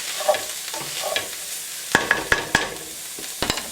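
Mince and onions for a veggie chilli fry in a pan with a steady low sizzle, while a utensil knocks and taps against the pan several times, including a quick run of metallic clinks.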